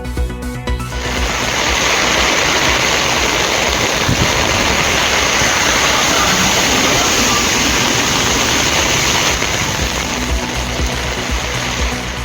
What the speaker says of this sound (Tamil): புதுச்சேரியில் வெளுத்து வாங்கிய கனமழை.